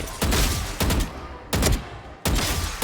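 Automatic rifle spray fire in Valorant: four loud sustained bursts of rapid shots, each lasting about half a second, separated by brief pauses.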